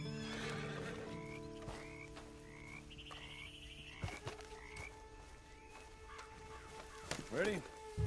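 A horse in the Red Dead Redemption 2 video game whinnies and snorts, with hooves clopping against a backdrop of croaking frogs and chirping birds. A voice speaks briefly.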